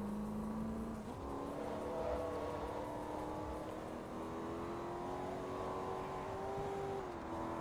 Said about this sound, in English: the car sounds of the actual game